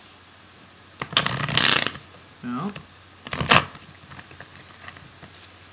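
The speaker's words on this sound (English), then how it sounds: "So let me just put it down here so you can see the shuffling." Tarot cards being shuffled by hand during a reading, two loud riffling bursts with a softer rustle between them, close up with no talking.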